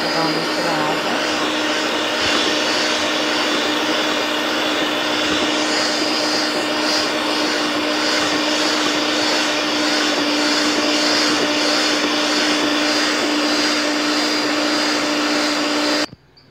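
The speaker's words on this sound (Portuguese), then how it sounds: "Agora eu vou dar uma ligada na batedeira pra dar uma misturada." An electric mixer beats chocolate cake batter, a steady close-up motor whir that holds at one even level for about sixteen seconds before it cuts off abruptly.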